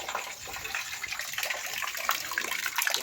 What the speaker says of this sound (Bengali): এখন এই বালতিটা আমি নামিয়ে নিচ্ছি, আবারও একটা বালতি বসিয়ে দিচ্ছি। তো এইভাবে আমি যতক্ষণ জল পড়বে জল ধরে নেব।